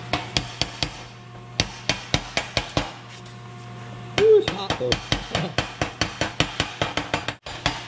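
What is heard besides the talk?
slag hammer chipping welding slag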